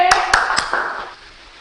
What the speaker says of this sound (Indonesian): teman-teman semuanya tepuk 3 kali agar lebih konsen nih